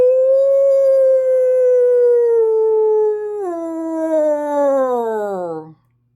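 A person imitates a wolf howl with one long, sustained voiced cry that holds steady, then dips lower and slides down to fade out at the end, loud and close with no other sounds.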